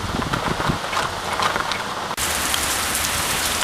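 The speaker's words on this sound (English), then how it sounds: "Got stuck in the rain." Steady rain pours down outdoors, a dense continuous hiss of drops hitting surfaces, loud and close, with a brief dropout partway through before the downpour resumes unchanged.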